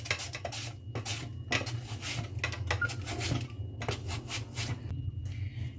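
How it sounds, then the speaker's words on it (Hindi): A handheld cutter slices through raw potatoes in a home kitchen, giving repeated close scraping and rasping strokes in a steady rhythm over a low background hum. "यहाँ पर हम लेंगे आलू और आलू को हम स्लाइसिस में काट लेंगे।"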